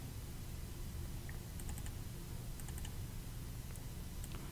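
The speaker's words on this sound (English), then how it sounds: "And I'm typing all of those right now." Typing on a computer keyboard while drafting a truss drawing, with short bursts of light, quick key clicks over a steady low hum, close and quiet, and no voices.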